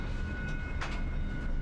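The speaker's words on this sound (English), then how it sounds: "Yep, it's the Caltrain." A Caltrain commuter train in the Bay Area gives a steady loud rumble with a brief louder rush in the middle, heard up close and without voices.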